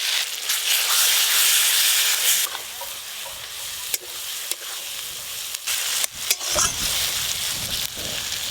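Mutton curry with spices and tomato paste frying and being stirred in a pan, a steady close sizzle and hiss with scraping stir strokes, no talk.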